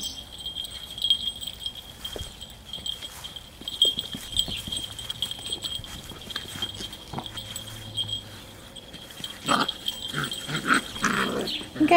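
Puppies growl, whimper and scuffle on a wooded ground, with several bursts of yapping and rustling, while a person calls to them now and then.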